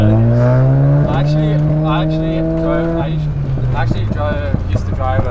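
A Mazda FD RX-7 rotary sports car revs on a mountain touge road in Sydney, its engine note rising and falling as it shifts, heard from inside the cabin with excited talk over it.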